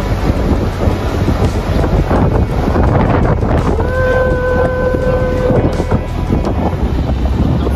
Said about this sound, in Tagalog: Parang may bagyong hangin.